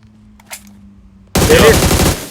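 Machine-gun fire in a shooting video game bursts in loud and rapid after near silence, a continuous stream of closely spaced shots lasting about a second.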